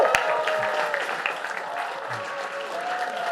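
Steady audience applause fills a conference hall as a keynote speaker is welcomed at a student mental health event, a dense, continuous wash of clapping with faint crowd noise throughout.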